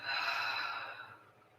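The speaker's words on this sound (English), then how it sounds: "So let's start with some deep breaths." A long deep breath during a yoga warm-up, an airy close exhale that is loudest at the start and fades away over the following second.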